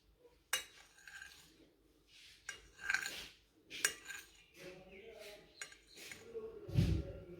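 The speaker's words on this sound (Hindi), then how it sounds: "अब इसको हम कर लेंगे कटिंग इसकी।" A knife cuts set jelly into pieces, close by, with a handful of sharp taps and clinks against a plate at irregular intervals amid quiet handling sounds.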